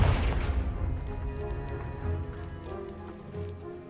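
A Confringo spell blast in Hogwarts Legacy bursts loudly at the start and rumbles away into a crackling, debris-like decay, with a faint ambient hum and no talking.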